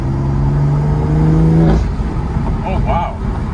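A BMW M2 CS with a loud aftermarket exhaust and its flaps open gives a close, rising engine drone that cuts off abruptly, followed by a brief voice.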